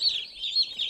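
A shipment of hatchery chicks, ducklings and turkey poults (Cornish cross chickens, Rouen ducks, Royal Palm and Broad Breasted White turkeys) peeps continuously, a dense, close chorus of high chirps with no voices.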